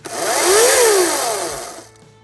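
A Ryobi 14-inch cordless chainsaw's motor whines up briefly, then its pitch falls quickly as the chain spins down to a stop, close and loud.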